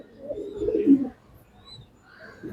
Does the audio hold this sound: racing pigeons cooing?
yes